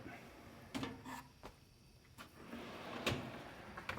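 Pullout shelf drawers slide open on a Muscle Rack metal shelving system loaded with paint and auto body supplies, giving several short rolling scrapes and dull clunks spread across a few seconds.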